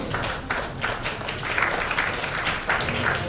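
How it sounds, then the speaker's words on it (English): Steady round of applause from an audience at a formal ceremony honoring a guest, dense clapping filling the room at even loudness without talk. "with your round of applause, ladies and gentlemen"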